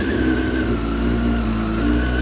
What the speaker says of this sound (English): With that micron exhaust, sounds absolutely awesome.